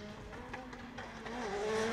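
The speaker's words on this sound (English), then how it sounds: "Big handbrake drag there for initiation." At a pro-am drift qualifying round, a drift car launches off the line with a handbrake drag initiation. Its engine revs rise steadily and tires start to squeal, heard from a distance at moderate loudness.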